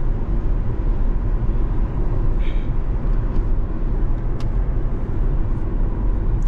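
A C8 Corvette cruises along, its engine and road noise forming a steady, loud low rumble heard from inside the cabin, with no talking.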